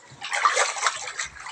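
Floodwater sloshes and splashes inside a flooded house at night, a steady close watery wash with small surges, faint voice in the background.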